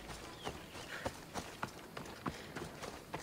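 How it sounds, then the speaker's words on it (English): Horse hooves gallop in the Assassin's Creed Odyssey video game, a quick run of evenly spaced clopping beats at moderate volume over a soft ambient game background, with no voices. "Oh god, they got on a horse."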